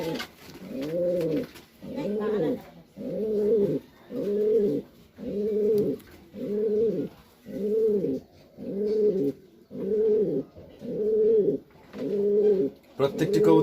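Racing pigeons coo in a steady, regular series of about a dozen low, rounded calls, close and clear, one after another with short gaps and no talk.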